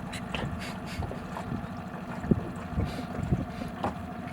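A small dinghy with an outboard motor crosses Hunga Lagoon in Tonga, giving a steady low engine drone under heavy wind noise and water slapping against the hull, with a few louder bumps.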